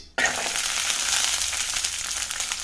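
Ginger and garlic sizzle steadily in hot oil in a frying pan, a dense, even crackling hiss that starts abruptly and continues loud and close with no voices.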